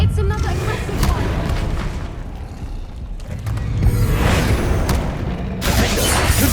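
Spell impacts in the Hogwarts Legacy video game land as a steady barrage of loud, close booms and crackling blasts, with heavier bursts near the start and the end of the stretch and spoken voice mixed in throughout.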